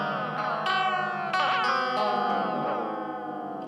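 Heavily modulated echo from a PT2399 delay pedal with extreme LFO settings, a sustained guitar tone warbling and pitch-bending like a broken tape deck, with swooping repeats and chorus-like wobble throughout.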